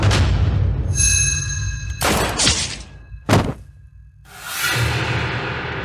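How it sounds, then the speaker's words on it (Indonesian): Several heavy booms and bursts in quick succession, each with a sharp crack and rushing roar, separated by short gaps, loud and close. "Ledakan."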